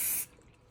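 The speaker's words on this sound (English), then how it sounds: "You don't want to spray too much in front." A short, close burst of spray aimed at a custom car audio door panel, hissing for a fraction of a second and then cutting off into quiet.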